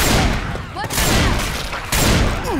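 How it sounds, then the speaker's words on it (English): Dense, loud automatic gunfire from Left 4 Dead 2 rattles almost continuously, with brief pauses around one and two seconds before the volleys resume at full strength. "Oh man, stop shooting!"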